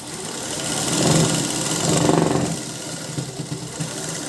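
A sewing machine stitching blouse fabric runs in a continuous whirring hum that swells and eases, then breaks into a few short, uneven pulses toward the end.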